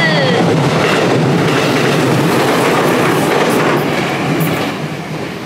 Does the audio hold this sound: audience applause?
no